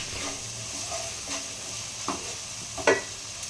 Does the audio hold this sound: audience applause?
no